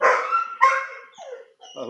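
A puppy barks loudly and close: two sharp, high yips in quick succession, then a softer whine and a short final yelp, with no talk.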